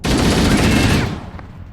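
Rapid automatic gunfire from the Halo video game rattles loud and dense for about a second, then cuts off into fading echo and quieter background.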